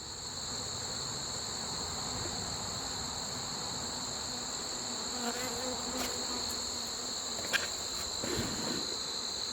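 Bees buzzing around garden hives, a steady droning hum from many insects flying in and out, continuous and fairly close, with no talking.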